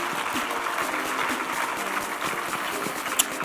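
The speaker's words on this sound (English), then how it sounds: "Another round of applause for all the work they've done for us this week." Conference audience applauding after investment commitments at the South Africa Investment Conference, a dense steady wash of many hands clapping at moderate distance, continuous throughout with no speech over it.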